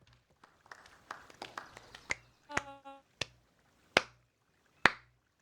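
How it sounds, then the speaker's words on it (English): Clapping sound effect from the video game Beacon Pines: a string of crisp, sharp claps, some quick and close together and then a few widely spaced loud ones, with a short tonal chime in between. "There's my clapping."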